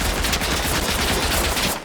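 Machine gun nest firing nonstop in a World War I battle video game, set on the Tannenberg front: a loud, dense, continuous rattle of rapid automatic bursts with explosive thuds, cutting off sharply at the end.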